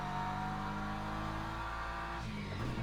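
A race car in a racing video game runs in third gear, its engine holding a steady, loud drone with shifting pitch that rises near the end, alongside faint tire squeal.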